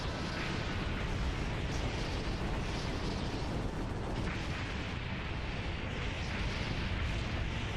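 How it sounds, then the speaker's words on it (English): Rockets fired in rapid succession and exploding during a dragon battle in the 2002 PlayStation 2 game Reign of Fire, a dense, continuous roar of blasts and rumbling booms filling the whole stretch. "I'm just gonna shoot as many rockets as I can stomach"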